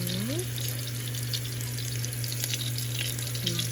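Turkey meatballs browning in a large frying pan give a steady, close sizzle and crackle over a constant low hum, with a few brief tonal squeaks near the start and end.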